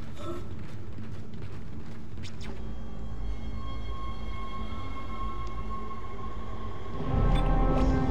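Tram riding on rails in the sci-fi horror game Dead Space, a loud continuous rumbling roll with metallic clanks early on and a heavier surge near the end.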